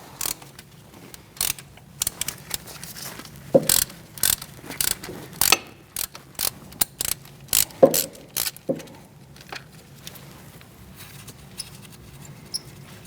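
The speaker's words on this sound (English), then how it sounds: "Remove your bolt for your ABS sensor with a 10mm socket." Ratchet with a 10mm socket loosening the ABS sensor bolt on a 2008-2014 Mercedes-Benz C300 3.0L V6 during front CV axle replacement, giving irregular bursts of sharp clicking spread over several seconds with quiet gaps.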